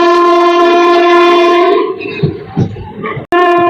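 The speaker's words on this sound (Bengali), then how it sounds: "ছেড়ে দিল আমাদের ট্রেন সালার স্টেশন থেকে।" A loud sustained train horn blares, then fades into rumbling and clattering as the train pulls away from Salar station, before the horn sounds again briefly.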